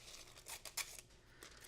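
Scissors cutting champagne-colored craft foil: a few soft, quick snips and crinkles close by, fairly faint.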